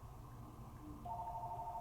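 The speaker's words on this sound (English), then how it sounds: "Oh, Claire, somebody get the phone." A telephone rings quietly in a room, a short repeating electronic trill that starts partway through over a low background hum.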